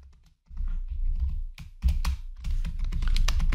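C code for a matrix multiplication program is typed on a computer keyboard in quick, uneven bursts of close, clattering keystrokes after a brief pause.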